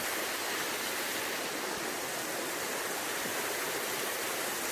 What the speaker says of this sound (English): Bet a lot of folk didn't know there's a waterfall like this in Glamis.